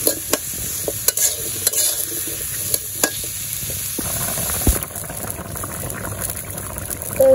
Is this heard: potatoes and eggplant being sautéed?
yes